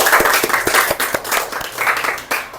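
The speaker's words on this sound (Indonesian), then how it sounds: "Oke, tepuk tangan semua." A class of schoolchildren claps their hands together in a classroom, a quick run of roughly ten sharp, loud, fairly even claps close by.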